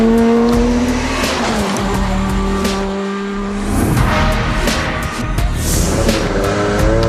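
A Peugeot 207 S2000 rally car races along a tarmac stage in Spain, its engine howling loud and close with gear changes, tyre squeal and skidding as it passes.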